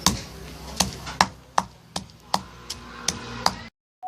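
Chili paste for a northern Thai curry pounded with a pestle in a mortar, about ten sharp rhythmic thuds at a steady pace, close and alone, ending abruptly.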